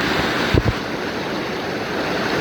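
Steady broadband rush of flowing water from a mountain stream feeding a waterfall on the Shrikhand Mahadev trek, continuous throughout with a brief low thump near the start.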